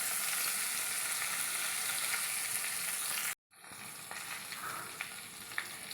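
Green chili and curry leaves sizzle in hot oil with a loud, steady, close hiss, broken by one brief cut before the frying resumes. No one speaks.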